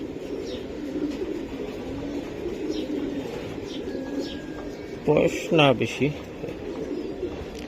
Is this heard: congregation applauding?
no